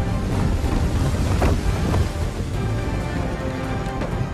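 Strong wind gusting over the sea during a naval battle in Assassin's Creed 3, a loud blustery roar with surging whooshes and splashy bursts, steady and close with no speech.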